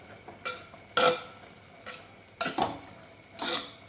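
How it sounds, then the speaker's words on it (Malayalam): A spoon stirs Kerala theeyal curry with roasted coconut in a pot, giving about six short scraping strokes against the metal over a soft simmering background. "നന്നായിട്ട് ഇളക്കി കൊടുക്കാം"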